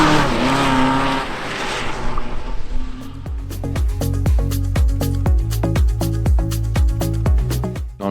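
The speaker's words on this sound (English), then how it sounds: "Nathan Hamilton who completes the MX5 top 6 as he scrabbles for grip here on the cold morning stage" A Mazda MX5 race car on a cold morning rally stage, struggling for grip as its engine revs hard and rises through repeated gear-change pulls, loud and close, with a rushing wash of noise early on.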